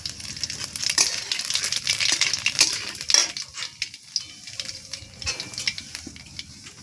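Black cumin seeds frying in hot oil in a wok with dried chillies, giving a crackling sizzle with spoon scrapes and clinks against the metal, close and fairly quiet.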